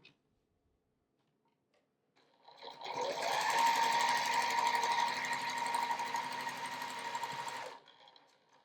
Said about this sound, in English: I place them right sides together and sew a 1/4 inch seam.